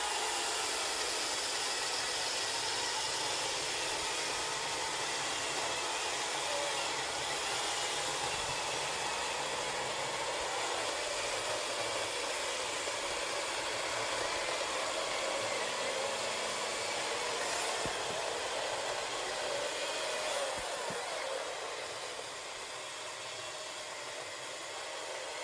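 An Optimus OCS600 chainsaw fitted with an Oregon chain cuts through wood, a loud, steady, continuous engine and chain roar that holds for the full length and eases slightly near the end, with no talking.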